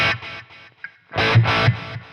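Electric guitar chords through a Boss Katana 50 EX Gen 3 amp ring out in short bursts, echoing with a trailing delay, then a louder strummed phrase repeats with echoes fading after each hit.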